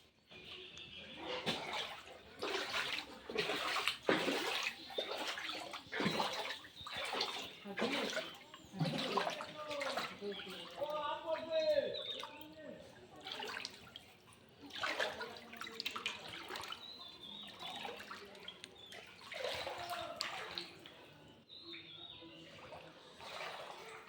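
Floodwater sloshes and splashes inside a flooded village home, with rushing, irregular water sounds continuing throughout alongside faint bird calls and occasional voices in the background.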